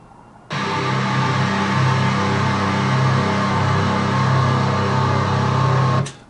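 A thick, distorted guitar tone holds a steady sustained drone, its sound shaped and slightly thinned, then stops abruptly.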